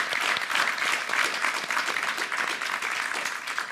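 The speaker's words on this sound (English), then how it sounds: "Please give us a big warm round of applause" An audience at a talk event in The Hague gives a warm round of applause, steady dense clapping from many people that holds at an even level for its full length, without speech.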